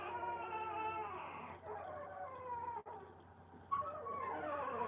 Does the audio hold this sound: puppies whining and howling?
yes